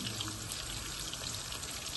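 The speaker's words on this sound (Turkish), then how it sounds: "Köfte kızartıyorum." Meatballs (köfte) fry in a pan in a home kitchen, giving a steady, close sizzle and crackle with no talking.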